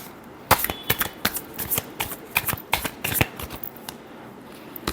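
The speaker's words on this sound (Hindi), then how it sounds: "last shuffle," Tarot cards shuffled by hand in a series of quick, crisp riffling bursts with short pauses between them, close up and with no talking.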